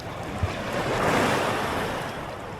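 Ocean waves breaking on a beach in Iba, Zambales, a loud continuous roar of surf swelling and easing with a rush of wind across the microphone.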